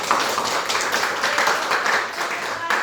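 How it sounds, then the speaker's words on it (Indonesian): A classroom of students claps after a group presentation, a short burst of scattered applause at moderate volume, with faint voices mixed in. "Tepuk tangan"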